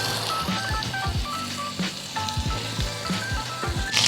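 Meat sears fat side down in a pan of hot oil, a continuous sizzling hiss broken by soft, regular low thumps and a few faint tonal squeaks, with no talking.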